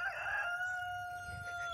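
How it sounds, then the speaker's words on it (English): Rooster crowing near a farmyard with chickens and greenhouses, one sustained loud crow holding steady tones and fading out at the end, with no talk. "Goodness, noisy rooster."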